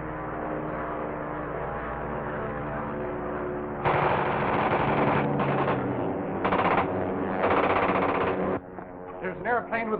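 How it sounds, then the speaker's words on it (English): A machine gun fires at an aircraft in a 1937 Dick Tracy film serial, with rapid bursts over a constant engine drone in a muffled old soundtrack, and someone speaks before and after the gunfire. "With a machine gun attacking us, sir."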